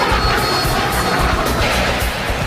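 A Harrier jump jet military aircraft roars with a loud, steady, dense engine noise that fills the whole stretch without a break.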